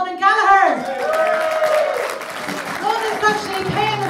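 Audience applause for a singer at a Songs From The Lough performance, a full wash of clapping that swells in after a brief tonal opening and carries on steadily with a voice or music threading through it.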